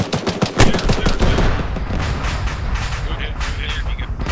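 A shot fired at a BTR armoured vehicle in a military video game, a sharp loud blast followed by a burst of rapid gunfire and booming impacts, with continuing rumbling explosions and crackling fire behind.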